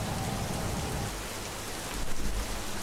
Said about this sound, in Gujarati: કેટલી જગ્યાએ અત્યારે વરસાદ વરસી રહ્યો છે